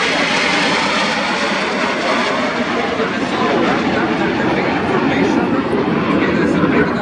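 Frecce Tricolori display team jets roar past at an air show, a loud, broad, sustained jet noise filling the whole stretch, with a commentator talking over it.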